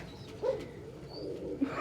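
A pet bird, a dove or pigeon, gives a few soft coos indoors at breakfast, two short calls standing out over a quiet room hum.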